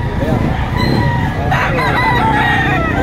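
A rooster crows loudly and close at a busy poultry market in Lipa, Batangas, with chatter and other fowl sounds in the background.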